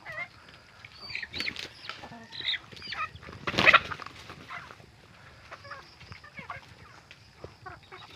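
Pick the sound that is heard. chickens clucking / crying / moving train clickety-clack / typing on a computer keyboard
chickens clucking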